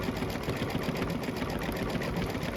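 A Babylock embroidery machine stitching a dense Halloween design, a steady fast mechanical whirring with even needle-strike rhythm, loud and close, running continuously without pause.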